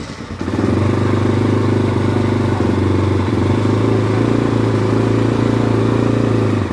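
A 2025 CF Moto 230 Dual Lite motorcycle with a carbureted single engine, cold and on choke, runs at a steady, loud idle close by, with a continuous thumping drone and light mechanical clatter throughout.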